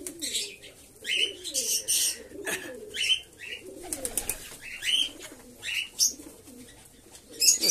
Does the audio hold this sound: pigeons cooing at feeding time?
yes